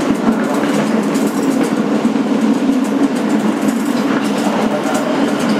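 A 2008 Kawasaki R-160B N local subway train rolling along, loud and steady with a rumbling roar and rhythmic clickety-clack from the wheels over the rail joints, heard from inside the car.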